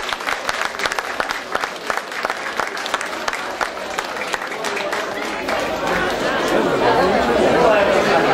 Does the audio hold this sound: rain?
no